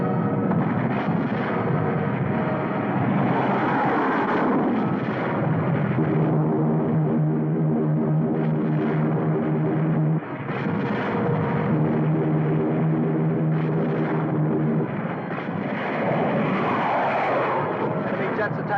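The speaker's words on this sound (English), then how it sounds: "Enemy jets approaching Boulder Dam." Enemy jet aircraft roar in to attack a dam in a 1952 film battle scene, a loud continuous engine rush with swelling passes, steady tonal drones and bursts that may be gunfire, with voices talking over it.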